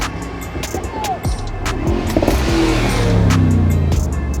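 A Mercedes SL63 engine revs loudly nearby, the pitch rising and falling, with sharp exhaust pops crackling over steady city traffic noise.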